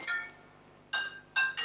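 A mobile phone plays a melodic electronic ringtone in short repeated bursts of bright tones with gaps between, close and clear indoors, with no one speaking.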